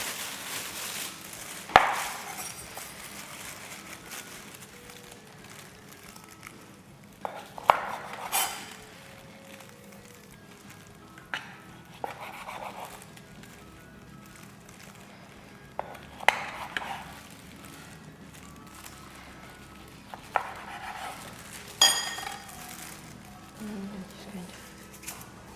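A knife slices through bulgogi kimbap rolls on a board, each cut a sharp, close thunk that repeats every few seconds over a quiet kitchen hum, with someone talking in between.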